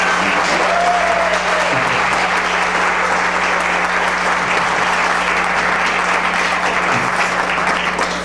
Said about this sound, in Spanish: Yo creo que eso merece un aplauso bien grande.